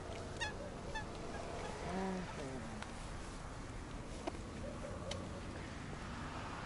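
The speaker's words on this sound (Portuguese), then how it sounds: "Ainda ali os patinhos." Geese or ducks honking at a coastal wetland near Praia da Vitória, several short nasal honks at moderate distance over steady wind and background noise, with a voice speaking.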